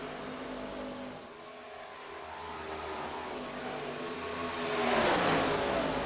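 Race cars roar at Daytona during a Dynasty Racing League event, a continuous engine drone that swells as cars pass, heard from a distance.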